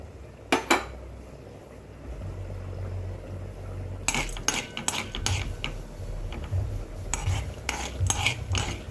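Chana dal fries in hot oil in a kadai while being stirred, with sharp metallic scrapes and clinks of the spoon against the pan at irregular intervals over a low steady sizzle.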